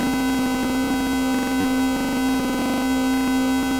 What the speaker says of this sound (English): So drive, that adds saturation and distortion